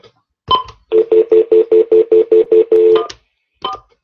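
A rapid, evenly spaced series of about ten telephone dialing tones, loud and close, followed by a couple of short clicks and beeps as a phone number is entered.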